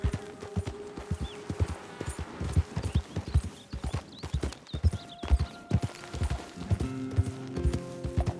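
Horse hooves clip-clop steadily in the Red Dead Redemption 2 game world, a close, even rhythm of repeated strikes sounding throughout, with a brief whinny and some low background tones.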